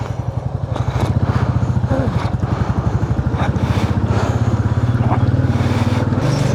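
Motorcycle engine running steadily at close range with a pulsing low rumble during a wet, rainy ride near Tawang, with wind noise over it and a voice speaking briefly under the engine.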